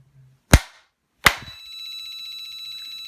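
A burglar alarm module on a test circuit sounds off: two sharp, loud bangs about a second apart, the second leading straight into a steady, shrill electronic tone that holds to the end, with no talking.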